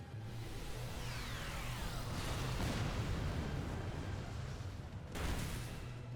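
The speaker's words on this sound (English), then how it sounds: "I need to Explosion." An Explosion move in a Pokémon video game battle, a loud sustained rumbling blast with sweeping effects and a second burst near the end.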